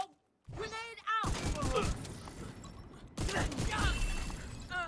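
Grenade explosions in a video game: two heavy, broadband blasts land about two seconds apart, each followed by sustained crackling rumble. Voices talk over the start and the end.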